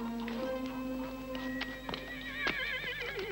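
Horses neighing and whinnying with hooves clip-clopping at a coaching station where post horses are being changed, a steady busy stable scene with one whinny rising loud near the middle.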